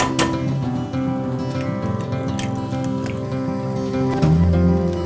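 Eggs cracked into hot oil in a frying pan crackle and sizzle continuously, with sharp pops and spatters over a steady frying hiss, close up and with no talking.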